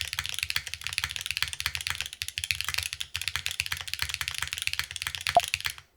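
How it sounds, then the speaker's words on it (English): Rapid typing on a Qi65 mechanical keyboard with Cherry switches up close, a fast run of crisp, bright keystrokes with a brief pause midway before a final burst, then silence. "Damn, this is a very bright keyboard."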